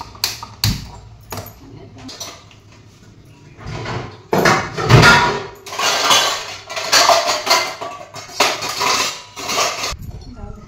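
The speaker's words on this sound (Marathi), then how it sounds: "इकडे कढई लावते, गॅस लावते." A metal kadhai clanks and scrapes as it is placed on a gas stove in a home kitchen, with a few clinks and bumps amid quiet talking.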